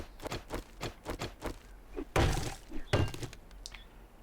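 Blows struck on a bookcase in the game Afterlife, a rapid series of dull thunks followed by two louder crashing hits.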